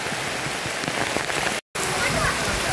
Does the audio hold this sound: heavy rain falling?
yes